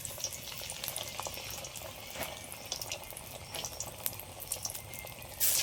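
Shrimp fritters with curry leaves are dropped into hot oil, giving a steady close bubbling sizzle of deep frying that runs throughout.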